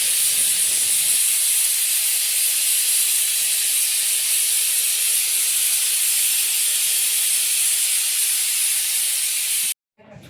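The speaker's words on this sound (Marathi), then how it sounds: "कुकरला शिट्टी लावलेली आहे" A pressure cooker on a gas stove, cooking a wild badadha leaf vegetable, vents steam in a loud, unbroken hiss that lasts about ten seconds and then cuts off abruptly.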